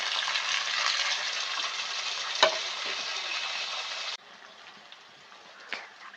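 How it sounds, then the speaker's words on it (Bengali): Prawns, peas and potatoes fry in a pan, giving a steady close sizzle, with a few sharper clinks or scrapes from stirring and a slightly quieter sizzle toward the end. "এরপর এর মধ্যে আমরা চিংড়ি মাছ আর মটরশুঁটিটাকেও একটু লাল লাল করে ভেজে নেব"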